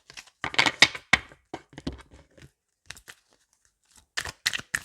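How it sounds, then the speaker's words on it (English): Tarot cards riffle and slap together in quick, papery bursts, pausing briefly before another round of shuffling. "Let's shuffle again."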